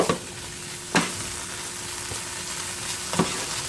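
Rice frying in a large frying pan gives a continuous close sizzle, punctuated by a few sharp scraping stirs and a faint steady hum underneath.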